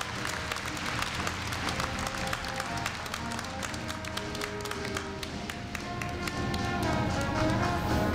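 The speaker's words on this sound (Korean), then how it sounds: "다시 한번 큰 박수 부탁드립니다" Sustained applause from a large audience at a Korea University freshman entrance ceremony in 2015, filling the hall with dense, steady clapping for a scholarship presentation, alone without talk.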